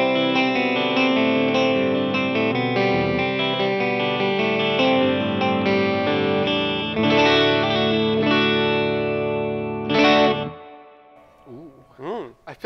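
PRS Hollowbody 12-string guitar played through the neck and bridge pickups together, with shimmering chorus-like doubled chords and picked notes ringing for several seconds, then fading as a voice briefly talks.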